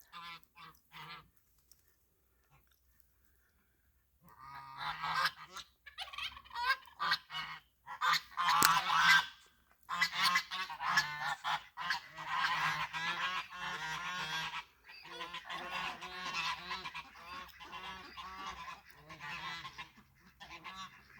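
Newly adopted geese on grass trade honks after a quiet start, then a dense, overlapping chorus of calls carries on at close range for most of the stretch, with no talk.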